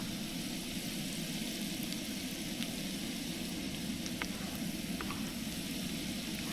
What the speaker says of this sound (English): Garlic is starting to brown up.